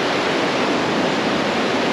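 A gold-prospecting creek rushes loudly and steadily, with broadband water noise filling the whole stretch close up and no voices or other sounds over it.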